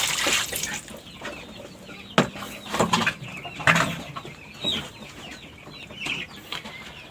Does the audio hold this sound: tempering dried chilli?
no